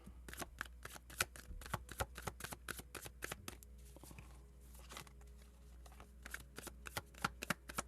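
Tarot cards being shuffled for a reading, a dense run of quick crisp riffling snaps with a brief pause midway, close and fairly quiet with no talk.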